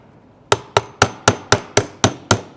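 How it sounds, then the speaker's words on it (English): A hammer taps a pin on a P2P HDC68 / T4E TC68 airsoft launcher during a teardown, eight sharp metallic strikes in a steady rhythm, close and loud with nothing else in the background. "I'm going to just tap it with a hammer."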